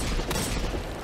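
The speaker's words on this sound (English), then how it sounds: "I missed all those shots" Fatebringer hand cannon shots in a first-person shooter video game, a dense burst of loud, close gunfire filling the short moment with no voices.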